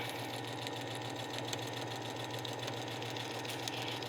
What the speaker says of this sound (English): I have my regular foot on my machine, and I'm just going to start sewing.